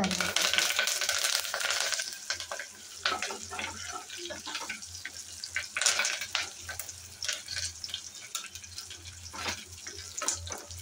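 Pieces puffing up as they fry in hot oil, a busy bubbling crackle with occasional clinks of a utensil, continuous and close, no voices.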